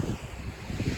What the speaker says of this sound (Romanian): Bate un pic vântul, dar asta nu se pune.